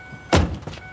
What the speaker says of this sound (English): A fucking car whose doors open like this.